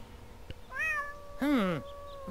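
A cat in the video game Deponia meows twice, a short rising mew followed by a louder, drawn-out meow, heard clearly over a quiet background.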